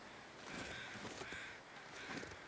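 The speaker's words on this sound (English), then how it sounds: "Hear birds." Three drawn-out crow caws in the video game The Long Dark, evenly spaced over a steady background hiss, fairly distinct and at mid distance.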